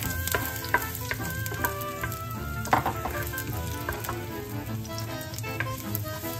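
Garlic sizzles in hot oil in a kawali while being stirred, a continuous crackling fry with scattered sharp pops and utensil taps throughout, close and fairly loud.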